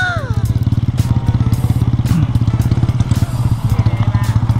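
A motorcycle engine runs close and loud, its rapid firing pulses chugging steadily while the revs swell and ease; a voice is briefly heard near the start.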